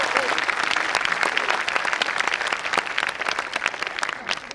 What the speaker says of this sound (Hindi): एक बार जोर ताली हमारे प्रवीण कटियार जी के लिए कीजिए